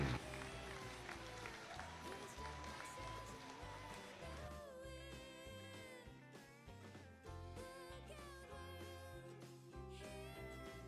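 An audience at an evening horse show in a coliseum applauds continuously, a dense wash of clapping with music and some crowd noise mixed in.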